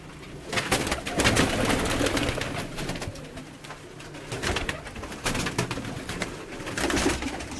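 Kasni pigeons coo steadily and fairly loudly nearby, overlapping low throaty calls with fluttering rustles underneath and no voices.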